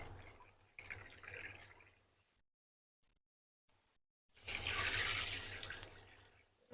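Water pours from a tap into a pan for sugar syrup in a home kitchen, a steady rushing stream heard twice with a silent gap between the runs, the second fill louder and longer.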